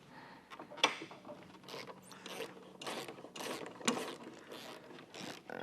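A wrench and socket work loose the bolts on a motorcycle's rear shocks, producing soft bursts of ratcheting clicks and metallic scraping, close and fairly quiet, in uneven repeated pulls.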